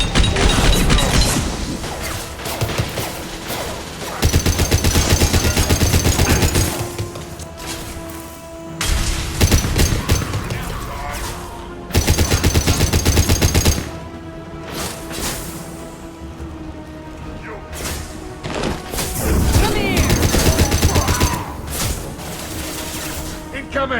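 Bursts of gunfire in the Mass Effect 2 video game come in loud, dense volleys of rapid shots separated by quieter gaps, with game voices and music sounding between them.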